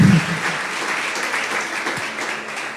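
Audience applause during a talk on family life, a short, dense patter of many hands clapping at a steady, moderate level from start to finish.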